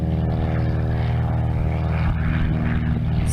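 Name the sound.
propeller airplane taking off at full throttle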